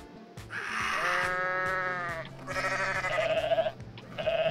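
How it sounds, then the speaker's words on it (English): Goats bleat repeatedly in Goat Simulator, a video game, with loud, close, wavering calls that answer one another in overlapping bursts over a low background. "If you bleat near a goat, they will bleat back."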